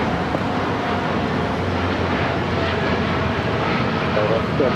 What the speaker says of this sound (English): This is United Airlines 3916 taking off to San Francisco on the 787-9 Dreamliner